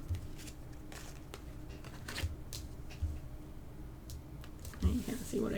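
Tarot cards riffled and drawn from a deck during a reading, soft papery shuffling and flicks with a few sharper card snaps, close and fairly quiet under light background noise.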